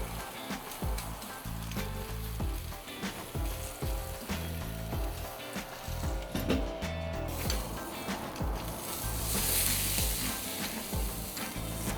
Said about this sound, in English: Just gonna go ahead and give that a flip.